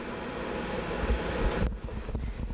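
Continuous airy hiss and low rumble from an air vent in a radio broadcast studio, steady and fairly close, dipping slightly in the final second, with no speech.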